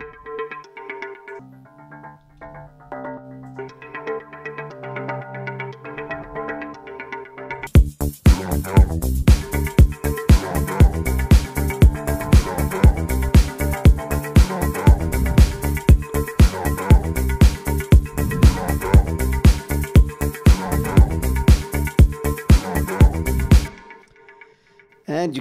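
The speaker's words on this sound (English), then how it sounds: "Arpeggiators. Again, it's an Ableton sound. I was looking for kind of a metallic sound." Two metallic Ableton synth arpeggiator lines, one low and one high, enter after a soft sustained pad intro and pulse rapidly and loudly to the end, with no voices.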